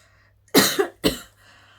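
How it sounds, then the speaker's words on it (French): Two harsh, close coughs from a single person, the first with a short rasping tail, separated by a brief pause in an otherwise quiet room. "Pardon, j'ai encore la toux."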